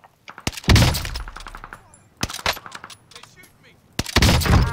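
Loud battle royale video game gunfire, several sharp bursts of shots with echoing impacts, separated by quieter stretches of game sound.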